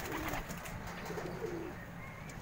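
Racing pigeons coo softly at a loft in the Philippines, low rolling calls repeating over a steady background hum, fairly close but quiet, with no talk.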